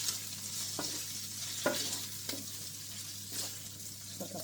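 Bacon sizzling on full heat in a pan as it browns, a soft steady frying hiss broken by several sharp scrapes of a utensil stirring it, fairly quiet and close with no talking.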